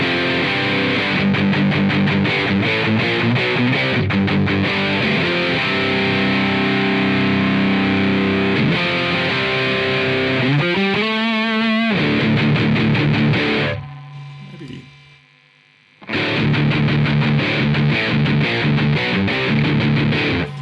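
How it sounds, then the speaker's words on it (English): Heavily distorted electric guitar riffing loudly through a Metal Distortion 2 pedal in AmpliTube 5, with thick, buzzing saturation, dropping to near silence briefly before the crunchy chords return. "Metal Distortion 2, now that's more like the HM2"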